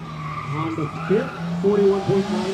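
A Honda Fit on an autocross course squeals its tires through the turns, with a whining engine and rising, wavering tire screech under a crowd's background chatter.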